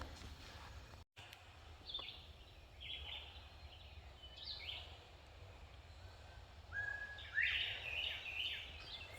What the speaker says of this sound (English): First Bob White I have literally heard in years.